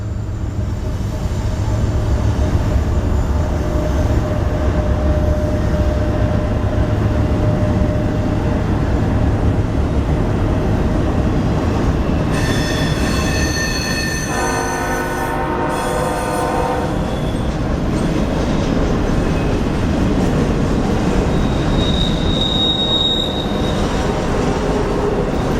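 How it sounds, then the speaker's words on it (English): A train rolls along the railroad through an old mill district in Kent, Ohio, a steady loud rumble of wheels on track lasting throughout, with brief metallic squealing tones partway through. "Here comes one of the trains right here"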